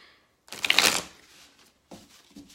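A Gilded Tarot deck being shuffled, heard as one dense riffle of flicking cards followed by softer, scattered card taps and slides, close up and without talk.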